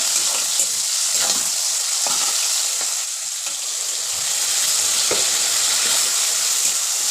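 Onion and tomato fry in oil for a desi chicken curry, giving a loud, constant sizzle with occasional soft stirring scrapes and no voices.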